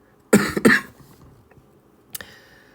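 Two quick, loud coughs from a man with a cold and a sore throat, close to the microphone indoors, followed by a shorter throat-clearing cough.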